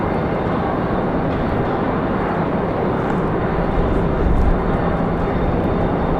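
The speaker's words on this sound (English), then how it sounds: "Got an Endeavor off to Boston. Little Delta connection E175." Endeavor Delta Connection E175 jet taking off at Raleigh-Durham International on a windy day, a loud continuous broadband engine roar holding steady throughout with no voices.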